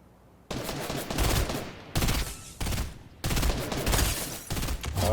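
Rapid gunfire in a shooter video game, loud dense bursts of automatic fire in several long volleys broken by brief gaps, close and dominant, with no voices.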